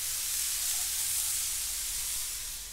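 Cheese steams on covered veggie burgers on a griddle, giving a steady, close hiss and sizzle that stays even throughout with no talking.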